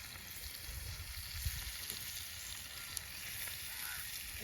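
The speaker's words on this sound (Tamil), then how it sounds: "எல்லா பக்கம் நல்லா பொறுங்கி வந்துட்டு" Freshly caught fish fries in hot oil over a village cooking fire, giving a soft, steady sizzle with faint crackles. It is low in level and continuous, with a couple of small pops and no talking.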